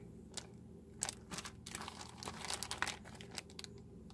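Crinkly paper 3D craft flowers crackle and rustle in close handling, with bursts of crumpling that come and go in irregular clusters, loud against a quiet room and without talk.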